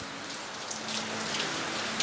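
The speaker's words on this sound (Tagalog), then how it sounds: "Yan, umuulan na naman." Steady rain falls in the Philippines, a dense even hiss of drops on surfaces with a faint low hum underneath, continuous and fairly loud with no talk.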